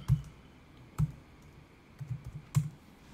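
Keystrokes on a computer keyboard entering a short search term in a design app, four or five soft separate clicks spread unevenly over a few seconds against a quiet room, no talking.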